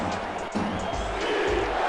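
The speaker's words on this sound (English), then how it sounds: "Crowd standing up." Stadium crowd at a Grand Rapids at Baltimore football game, a steady dense roar of cheering voices rising slightly as fans stand, continuous and fairly loud throughout.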